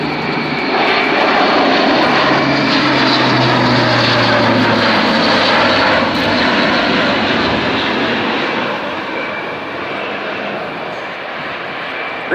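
An Airbus A400M Atlas pre-production military transport roars through a solo display at RIAT 2013, its loud propeller drone holding steady and easing slightly toward the end.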